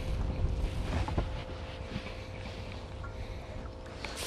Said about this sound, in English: That wind picked up.